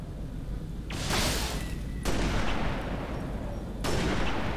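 Enemy gunfire in Halo Reach, three loud, sharp bursts of shots at roughly one-second intervals, each cracking out over a low background rumble.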